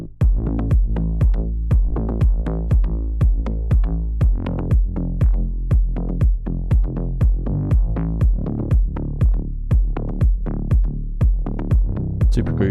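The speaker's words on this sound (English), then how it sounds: "So that's the bass with the kick on its own." Electronic bass and kick drum from a deep house production, playing alone: a steady four-on-the-floor kick thumps with each beat, locked to a groovy, rhythmic synth bass line with the lows trimmed, loud and close.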